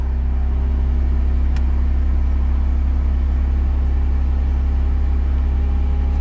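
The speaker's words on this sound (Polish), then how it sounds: "rozgrzewający się silnik" A cold car engine warming up at idle, a steady low rumbling hum with a constant engine drone throughout, close and unbroken for several seconds.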